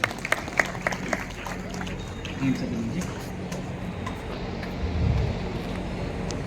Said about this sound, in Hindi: पूरे सम्मान के साथ बुलाना चाहूंगा जोरदार तालियों से आदरणीय कलेक्टर साहब।